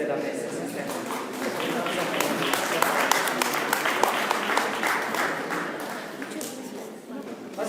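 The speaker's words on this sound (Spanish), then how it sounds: "les podemos brindar un aplauso, por favor, a los integrantes de la mesa." Audience applause for the panel members at a Latin American forum of scientific workers, loud, dense clapping from a full room that swells in the middle and runs for several seconds, with voices mixed in.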